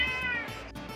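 Several house cats meow at close range, a sustained high wavering cry fading toward the end of a brief moment.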